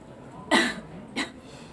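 Two coughs, a sharp loud one followed by a shorter, quieter one about half a second later, close to the microphone with no talking.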